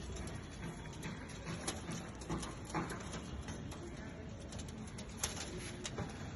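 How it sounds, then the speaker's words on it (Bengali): Caged pigeons, an Oman teddy male and a molting female, flap and scuffle restlessly as they are let out, with soft wing flutters and scrapes over a faint, quiet background. "বাইরে ছাড়ছি তো এই জন্য একটু ছটফট করতেছে, খাঁচায় থাকে কবুতরগুলো।"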